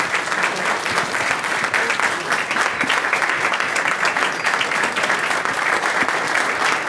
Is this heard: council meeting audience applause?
yes